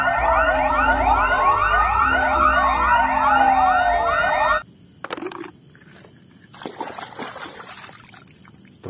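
A toy fire truck blares a loud, close, rapidly warbling electronic siren for about four and a half seconds, then cuts off, leaving scattered handling clicks and knocks.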